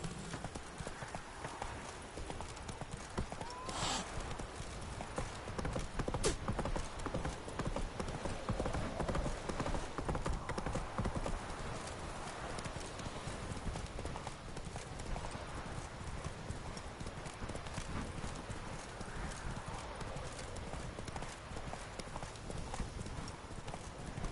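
Horse hooves gallop in a fast, steady clip-clop rhythm throughout, a game horse running over open ground in The Witcher 3: Wild Hunt, continuous and close with a faint whinny and low ambient wind.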